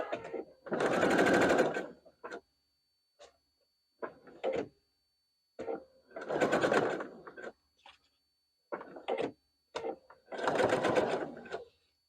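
A sewing machine stitches fabric for a barn star sampler quilt block in three loud bursts of rapid mechanical whirring, each lasting a second or two, separated by softer clicks and handling noises.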